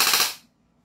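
A short burst of rapid fire comes from an airsoft rifle, a VFC Leopard or Action Army Shinobi, as a loud, close, dense rattle lasting under half a second before it cuts off to quiet.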